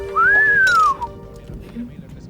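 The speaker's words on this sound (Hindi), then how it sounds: "किसे भी देखकर सीटी मारते हैं।" A man in a street scene gives a single rising-then-falling wolf whistle aimed at a girl, loud and close, followed by faint background murmur.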